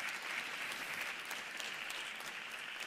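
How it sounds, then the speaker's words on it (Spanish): Audience applause for a footballer being introduced on stage at a sports congress, a steady dense clapping from a crowd, moderately distant and continuous for the whole stretch. "fuerte el aplauso para él"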